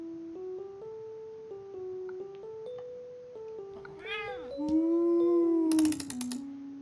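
An American Curl cat meows in a game, with a series of pitched, stepping cries leading into longer, louder wailing calls near the end, close and clear over a quiet background.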